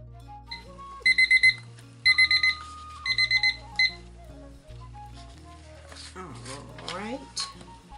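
A kitchen timer set for five minutes of resin mixing goes off, sounding several bursts of rapid high beeping in a repeating pattern over low steady background noise, with a brief voice near the end.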